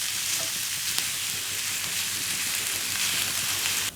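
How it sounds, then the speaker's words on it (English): Lamb mince sizzling and frying in a pan while being broken up, a steady loud crackling hiss with faint scraping stirs throughout. "what you want to do whenever you're cooking mince is kind of break it up as much as you can"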